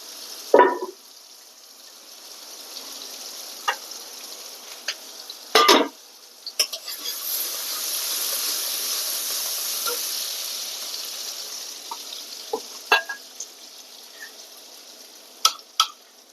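Hilsa fish cooking in a pan with green banana kofta, a broad steady sizzle swelling in the middle with sharp clatters and stirring scrapes scattered throughout, no voices.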